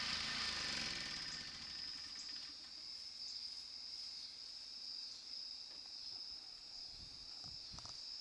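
A 2015 Toro Timemaster electric start lawn mower cutting grass in an Illinois yard at sunset, a steady droning engine hum running throughout at moderate distance, with insects buzzing alongside.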